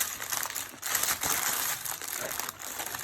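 Parchment paper crinkling as it is laid and pressed over kadayif dessert in a home kitchen, a steady close crackle of paper with no talk.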